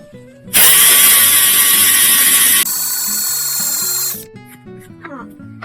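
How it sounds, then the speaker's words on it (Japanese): Power drill boring a screw hole through a coaster for a lace-thread holder, a loud steady whine that starts abruptly, drops in pitch partway through, then stops, followed by faint clicks and handling noise. "ここにちょっと穴を今から開けていきたいと思います"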